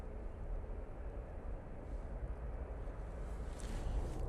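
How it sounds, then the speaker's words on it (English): Pegasus Airbus A321neo airliner at Manchester Airport, a distant, steady low jet rumble spread evenly over the whole stretch, with faint wind noise and no talk. "Certainly looks like a Pegasus. Yes, it is. Using their A321 Neo."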